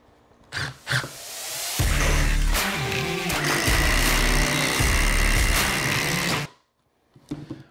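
A Milwaukee M18 18V cordless drill drives a screw with a worn Phillips bit into knotty wood, its motor whirring loud and steady for about five seconds before stopping, with a few faint taps before and after.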